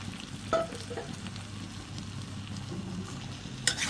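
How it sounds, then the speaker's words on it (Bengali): Boiled greens and beans sizzle and fry in a pan with a steady crackle, punctuated by a couple of sharp scraping clinks from stirring. "এগুলাকে আমি এখন দিয়ে দিয়ে ভালো করে ভেজে নেবেন"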